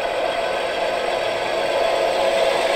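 An ESU model locomotive with onboard sound runs with a steady, continuous engine drone at moderate volume, with no talk over it.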